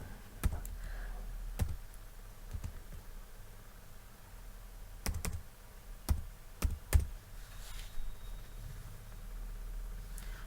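Scattered key presses on a computer keyboard while filling in a resume in MS Word: sparse clicks and taps, irregular and fairly faint, over a low steady room hum with no talk.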